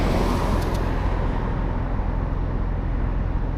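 Steady, loud roar of car traffic passing through a street crossing in a desert town, a dense continuous wash of engine and tire noise with no break.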